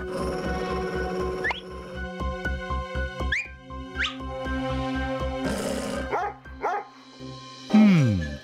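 A cartoon dog in a children's animated show barks several times over bouncy background music, with whistling slide effects and a final whimpering yelp.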